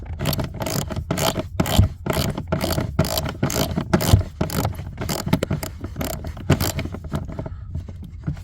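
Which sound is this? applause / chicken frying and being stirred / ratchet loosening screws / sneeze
ratchet loosening screws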